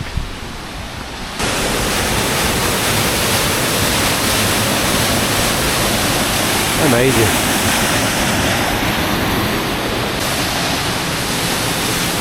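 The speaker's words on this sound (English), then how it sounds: "Just next to the waterfall." A waterfall beside a river in Snowdonia roars in a loud, steady rushing wash that fills the whole scene, close by, with a brief spoken exclamation partway through.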